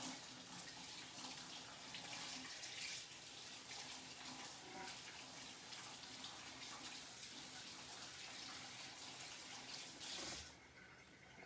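Steady rush of running tap water as freshly washed cheddar and chive biscuit ingredients are rinsed under the faucet, continuous and fairly loud for about ten seconds before cutting off abruptly near the end.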